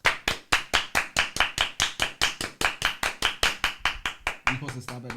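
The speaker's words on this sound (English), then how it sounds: "Round of applause." Rhythmic group clapping on a podcast set, sharp unison claps at a steady beat close to the mic, ending with a few voices as the clapping stops.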